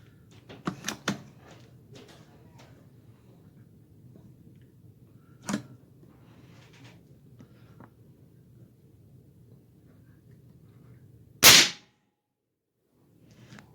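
Airforce Condor .25 air rifle firing 36.2 gr hollow points from a tethered carbon fiber tank at 3600 psi: a few faint snaps early, then one sharp, loud crack near the end followed by silence.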